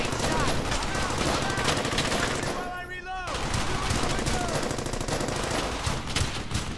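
Machine gun fire in the World War II shooter Brothers in Arms: Hell's Highway, with loud, dense, continuous bursts of automatic fire and a brief lull near the middle before the shooting resumes.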